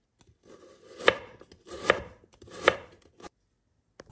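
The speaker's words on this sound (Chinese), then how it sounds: "香菇切片，红萝卜" A knife slices shiitake mushrooms and carrots on a cutting board, making three sharp, evenly spaced chops close by, with soft shuffling between strikes.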